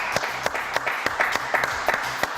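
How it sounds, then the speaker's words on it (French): A studio audience on a French TV comedy show claps in a sharp, uneven burst of separate claps, moderately loud and close, with no voices over it. "Et on applaudit très très fort, s'il vous plaît."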